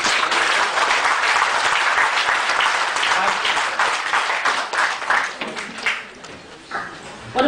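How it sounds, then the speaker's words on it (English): Audience at an education conference session applauds in dense, steady clapping that holds loud for several seconds, then thins and fades out near the end. "I think we should clap for everybody."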